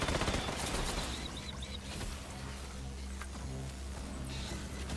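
Rapid automatic gunfire rattles in a multiplayer shooter video game, dense bursts with a constant low rumble beneath, fairly faint and continuous across the clip.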